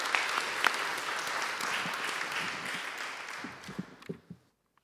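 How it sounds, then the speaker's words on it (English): Conference audience at a neuroscience session applauding a speaker, sustained clapping that thins out into a few scattered final claps before going quiet. "let's give one more round of applause for Shuan"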